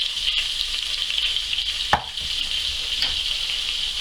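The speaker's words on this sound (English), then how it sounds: "Give it a stir so it all gets to know each other" Curried Welsh lamb shanks being stirred in a pot topped up with beef stock, a steady soft bubbling hiss with one brief scrape of the spoon near the middle, close and moderately loud with no talking.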